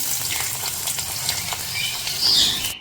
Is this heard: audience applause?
no